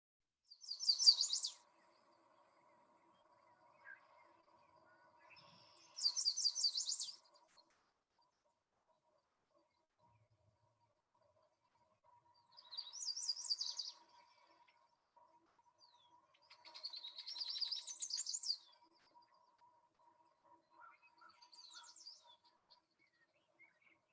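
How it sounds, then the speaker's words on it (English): Bright, intricate warbler songs in separate bursts with quiet gaps, clear and fairly close, no voices. "I personally can listen to warblers sing all day long."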